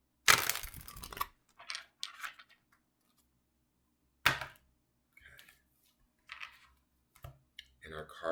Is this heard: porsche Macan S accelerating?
no